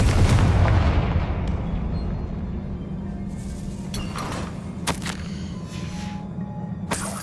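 Confringo blasting spell in the Hogwarts Legacy video game: a heavy, booming explosion opens and rumbles away, followed by several sharp crackling bursts and debris impacts spaced over the following seconds.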